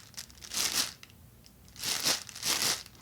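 A Tree Thrasher deer call imitates rustling leaves: close, crinkly rustling bursts in two clustered pairs separated by a short pause, at moderate loudness with no talking.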